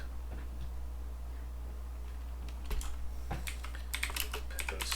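Fingers type quickly on a computer keyboard during coding work, the clattering keystrokes arriving in bursts over a low, steady hum after a couple of quieter seconds.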